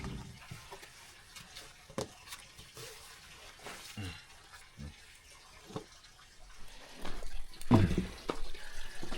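Water runs and splashes nearby, a steady trickling stream with scattered drips, swelling louder toward the end.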